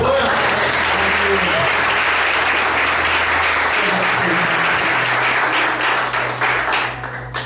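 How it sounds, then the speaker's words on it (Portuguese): Church congregation applauding during a Portuguese-language service, a loud, dense wall of clapping that fills the room throughout and eases off slightly at the end, with a voice faintly underneath. "Você pode aplaudir o Senhor?"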